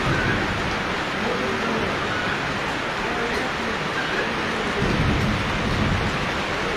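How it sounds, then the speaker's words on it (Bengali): Heavy rain pours down during a sudden storm in Chandpur, a dense, loud, steady hiss of rain on surfaces with deep rumbles of thunder rolling underneath, and a voice speaking faintly in the background. "প্রচুর বৃষ্টি হচ্ছে।"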